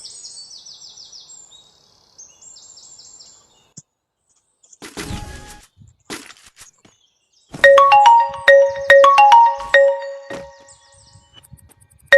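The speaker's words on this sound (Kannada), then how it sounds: "ಕಾಲ್ ಬರ್ತಾ ಉಂಟು" Phone ringtone of an incoming call plays as a loud repeating electronic melody of bright tonal notes, starting after a stretch of quieter sounds and continuing to the end, with no talk over it.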